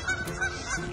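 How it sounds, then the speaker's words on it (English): Geese honk loudly and close by in a short burst of repeated nasal calls, with no talk over them. "Have you ever gotten into trouble with these little creatures? With the geese?"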